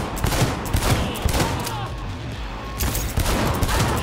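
Rapid automatic gunfire from a weapon in the video game Cyberpunk, dense bursts of shots crackling close and loud with brief gaps, continuing across the whole stretch.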